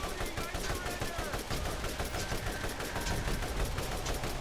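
Rifle fire in the video game Tiny Tina's Wonderlands, rapid repeated shots in a steady stream, fairly quiet and continuous with game effects around them.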